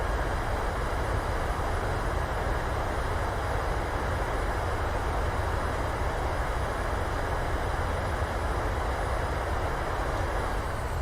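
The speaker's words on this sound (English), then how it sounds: "Reversers, nose down gently." Airliner thrust reversers roar on landing rollout in Microsoft Flight Simulator, a steady, dense, unbroken engine rush filling the whole stretch at constant loudness, with no voices over it.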